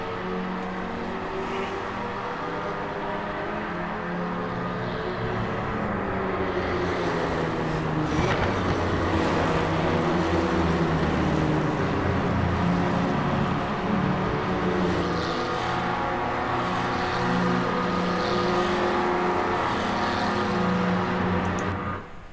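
Race car engines in the sim racing game Project Motor Racing during a practice session, a continuous loud engine drone that swells and holds with shifting pitch, no voices present.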